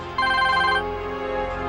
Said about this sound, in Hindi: उनका फोन बस आता ही होगा